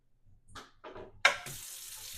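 A kitchen tap runs as a small child washes hands after baking, with soft handling noises first and then a sudden steady stream of water close by.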